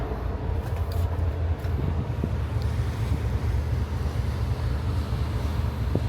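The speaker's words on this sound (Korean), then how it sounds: "뒷바람이 불고 있어서" Tailwind buffets the microphone at the stern of a ship high above the sea, a loud, continuous low rumble of wind noise with a faint wash of ocean underneath and no voices.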